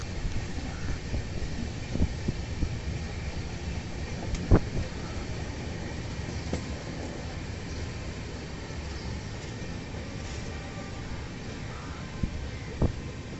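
A train at Mantralayam Road railway station, a low continuous rumble of rolling rail cars with occasional clanks and knocks, heard through wind buffeting the microphone.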